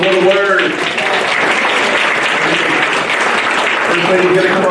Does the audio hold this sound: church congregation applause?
yes